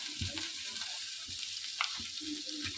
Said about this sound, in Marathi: आता हे भाजून घेत आहे